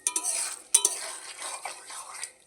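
Fried potatoes being stirred into a fish curry in a pan, heard as faint scraping and soft clinks of a utensil over a quiet background sizzle.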